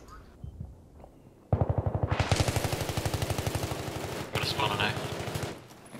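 Rapid automatic gunfire in a tactical shooter match on the Grand Bazaar map rattles loudly in a steady, fast burst, a short pause breaking the stream before a second volley continues.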